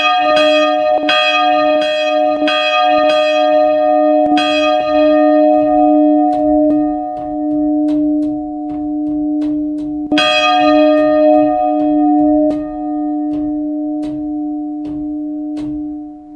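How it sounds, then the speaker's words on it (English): Bell number 7 of the eight-bell Odenthal church peal, recreated in Roblox, rings on its own with repeated bright, clanging strikes and long humming overtones. The strikes come at a steady pace and die away between blows. "Bell number 7."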